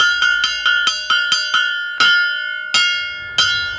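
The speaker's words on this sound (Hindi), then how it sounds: "अगले 5 मिनट में यहाँ ट्रेन आने वाली है, जिसकी सूचना घंटी बजा के दी जा रही है।" A railway station bell announcing an arriving train is struck repeatedly in a quick, steady series of clanging rings, then slower strikes with ringing overtones hanging between them, loud and near.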